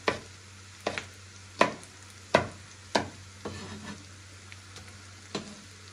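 Chilies dropped into hot oil for sambal terasi, a series of sharp sizzling bursts about every half second to second, each flaring loud then fading, close by over a steady low hum.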